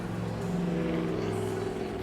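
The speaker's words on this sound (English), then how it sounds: "Sorry, loud car." A loud car rumbles past outside, a steady engine drone that swells and holds for a couple of seconds with no talking over it.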